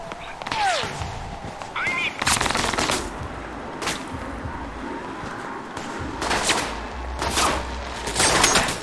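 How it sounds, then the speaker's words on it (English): Bursts of rapid gunfire crackle on and off alongside popping fireworks in the video game Alpha Protocol, with talking in between. "The noise from those fireworks should cover the sound of gunfire."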